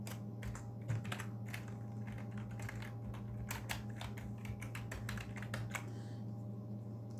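Typing in a word-processing document on a computer keyboard: steady, quick clicking keystrokes with irregular bursts and short pauses, close and fairly quiet over a constant low hum, with no voices.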